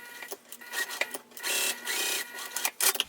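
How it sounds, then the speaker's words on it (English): A sewing machine stitches D-ring connector tabs for a crossbody bag, sewing an eighth of an inch down each side, with bursts of mechanical whirring and clatter separated by short pauses, close and moderately loud with no talking. "So let's go ahead and sew up the D-ring connectors."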